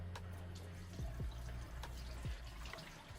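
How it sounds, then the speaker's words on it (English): Tap water sprays and splashes over developed film during a bleach rinse, a continuous running flow with a few louder gushes, faint and fairly close. "So the water's shooting out all edges."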